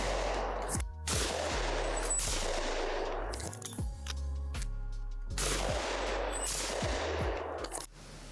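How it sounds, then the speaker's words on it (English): A Beretta 694 shotgun fires at clay targets outdoors. Several loud, sharp reports come at irregular intervals, each one ringing out and echoing, with a metallic clank in the middle. "Just finished putting some rounds through the 694."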